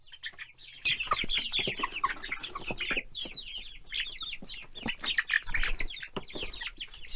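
Golden fryer chickens on a farm, a steady chorus of clucks and chirpy calls from a flock nearby, layered and continuous with no talk.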